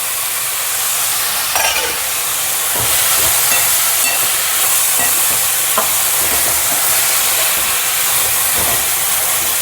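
Tomatoes are added to a hot pan while cooking matki usal, a steady sizzle and hiss with occasional stirring scrapes and clinks throughout.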